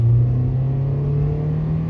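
A 2003 Toyota Yaris TS pulls away in second gear, its engine giving a steady, low droning rumble with a faint rising whine, close and continuous with no talking.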